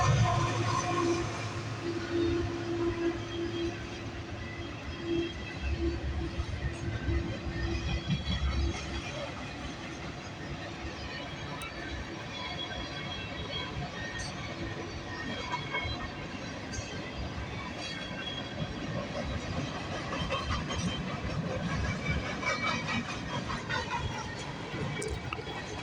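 A CN freight train, M394 bound for a Toronto-area yard, rolls past on the tracks with a steady, continuous rumble and clatter of wagons that holds loud and close throughout, with no horn standing out.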